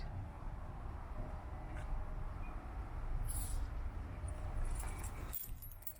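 Keys jangle while being tried in a stuck vehicle canopy lock, a light metallic rattle sitting close over a steady low background rumble, with a brief sharper clink near the end.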